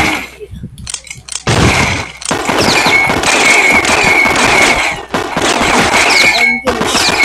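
Rapid gunfire from the video game Super Fighters rattles in dense, loud bursts almost without pause, with a player's voice talking over the shooting.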